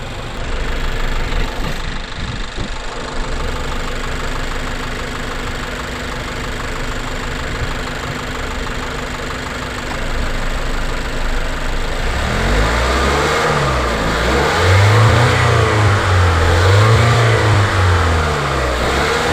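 Stock-intake 2018 Mazda6 with the 2.5 turbo engine, heard idling with a steady low hum, then revved several times in the second half with rising and falling swells, close and loud, no talking.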